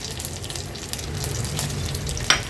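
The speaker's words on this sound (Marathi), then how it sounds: "कढीपत्त्याची पानं फोडणीला घालूया चेचलेल्या लसणाच्या पाकळ्या" Tempering sizzling in hot oil with mustard seeds, cumin, curry leaves and crushed garlic cloves, a dense continuous crackle with scattered pops and one sharper burst near the end.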